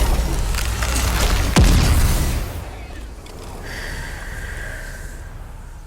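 Hailey's heavy sniper-style gun in The First Descendant firing a single loud, sharp boom, followed by a fading rumble and quieter game effects afterward.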